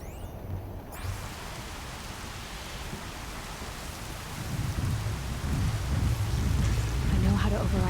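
Heavy rain pours in the Horizon Zero Dawn video game, a dense continuous wash that swells louder toward the end, with low rumbling beneath and a voice speaking faintly in places.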